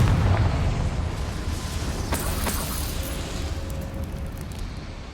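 A Confringo fire spell explodes in the video game Hogwarts Legacy, a dense rumbling boom that fills the whole clip with sustained crackling blast noise and no talk.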